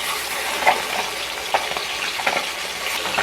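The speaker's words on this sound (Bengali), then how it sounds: "এক পিঠ ভাজা হয়ে গেছে এবার আমি উল্টিয়ে দিচ্ছি অন্য পিঠ" Small puti fish sizzle steadily in hot oil in a pan, with a continuous crackling hiss and a few louder pops and spatters.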